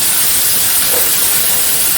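Ginger, garlic, green chili, curry leaves and onion fry in oil with popped mustard and fenugreek seeds, giving a steady, loud hiss with no pauses and no voices.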